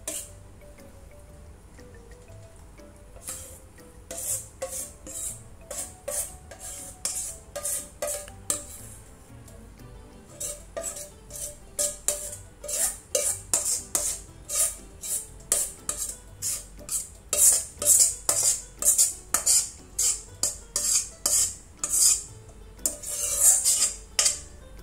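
Dishes and utensils clatter as cooking ingredients are moved into cups: repeated sharp clinks and taps of metal on ceramic, sparse at first and then quick and rhythmic, close up with no talk.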